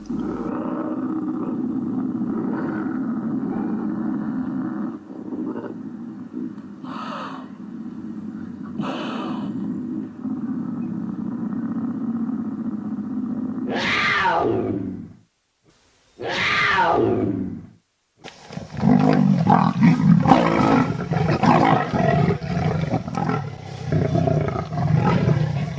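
A pair of lynx calling loudly at night during the March mating season, giving long drawn wailing yowls up close, then two sharp rising cries and a rougher, growling stretch.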